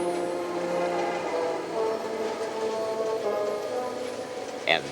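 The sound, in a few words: train with two diesel helper locomotives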